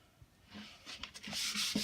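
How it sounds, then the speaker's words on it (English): Soft, close scratchy rubbing strokes repeat in an uneven rhythm, like sandpaper worked by hand over wood, with no voices. "I despise sanding, but it has to get done."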